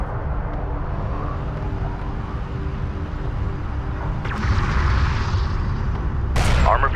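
Gunfire and artillery shelling against an armored vehicle in Homeworld: Deserts of Kharak, a continuous rumbling barrage with heavier booms building toward the end and a sharp burst at the close.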